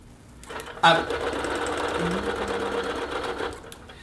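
A sewing machine bastes the layers of a quilt held taut in clamps, its steady motor whir running continuously at close range for several seconds, starting with a brief louder burst, with a faint voice underneath.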